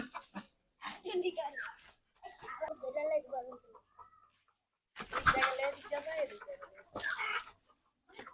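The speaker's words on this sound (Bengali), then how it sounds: "এই মুরগিটাকে ধরা হবে" Chickens cluck and squawk in bursts as one is chased and caught, with loud flurries of flapping, while several people talk and shout instructions close by.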